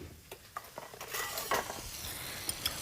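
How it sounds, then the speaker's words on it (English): Eggs are whisked in a bowl, giving a quick run of light clicking taps from the whisk against the bowl, fairly close and soft, with no voices. "we want to whisk those a little bit"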